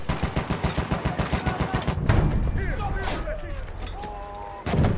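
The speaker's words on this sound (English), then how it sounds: "Enemy machine gun over there!" Machine gun fire in the Battlefield 1 video game, a loud, rapid, evenly spaced burst of shots lasting about two seconds. Explosions and battle noise follow, and game voices call out over the fighting.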